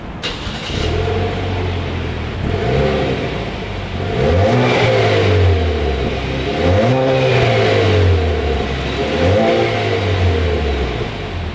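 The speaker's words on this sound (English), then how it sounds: "As always, here is that exhaust clip." A 2019 Chevrolet Camaro Turbo's exhaust revs up and falls back in repeated swells, a deep rumbling engine rising three times before settling between pulls.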